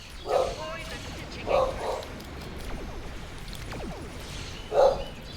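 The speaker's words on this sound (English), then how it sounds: "They're sound asleep, they jump up, start barking at God knows what." Several dogs give short, sharp barks in three bursts spread over a few seconds, fairly close and loud, with a low background hum between them.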